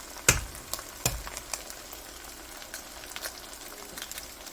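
Eggs dropped into hamburger gravy in a hot pan, two sharp cracks followed by a soft, steady sizzle with small pops, fairly quiet and with no voices.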